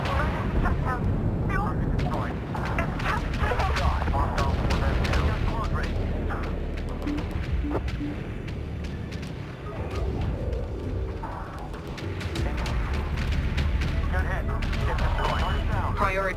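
Spaceship weapons fire volleys in Homeworld 3, with dense booming blasts and rapid bursts of gunfire rolling continuously and loud, while voices talk over the battle.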